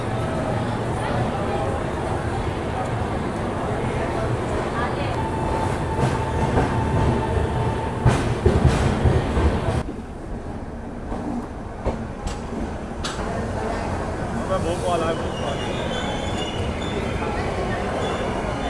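The Bhopal Shatabdi Express rolls into Rani Kamalapati station, heard from on board as a steady rail rumble with clinks, rattles and clickety-clack that eases as the train slows, with voices talking faintly underneath.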